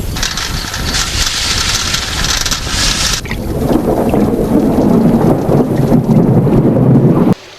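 Heavy rain pours down in a loud, dense roar as thunder rumbles through a storm, with a bright crackling burst early on, then a deep rolling rumble that fades out at the end.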